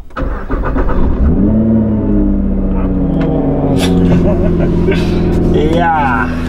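A Nissan GTR Nismo engine runs steadily and loudly up close, with a brief rising rev near the end; people talk over it.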